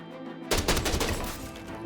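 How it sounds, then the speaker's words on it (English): Rapid volley of sniper rifle shots from an Arrowhead rifle in a ground-combat video game, bursting loud after a quiet half second and firing in a dense, sustained cluster of cracks. "arrowhead shots coming down from above"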